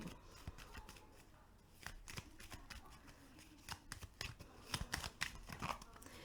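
Tarot cards are drawn and handled in a quiet room, making soft rustling flicks and papery slides in irregular bursts that grow busier toward the end, close and faint.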